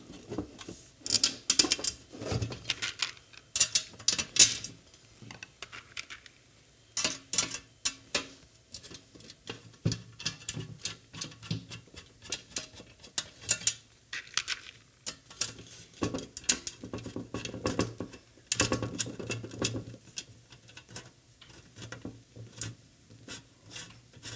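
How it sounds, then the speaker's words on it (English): Bolts being started by hand into the holes of a car chassis during assembly give scattered light metallic clicks, scrapes and rattles in irregular bursts, close and fairly quiet, with no talk. "Let's get bolts started in these holes now"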